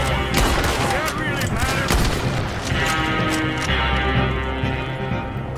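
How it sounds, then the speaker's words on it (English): Gunfire from a bolt action rifle in Red Dead Redemption 2, several sharp reports standing out over a dense, busy game soundscape with music and ambient noise running throughout. "Let's go bolt action rifle,"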